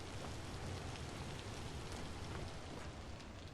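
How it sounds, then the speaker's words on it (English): Steady rain falls in the Vintage Story video game world, a dense, even hiss that holds without a break for the whole stretch, with no voices over it. "Is the rain getting to you?"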